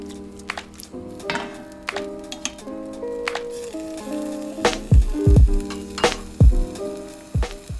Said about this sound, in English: we can add the beef into the broccoli to stir fry it all together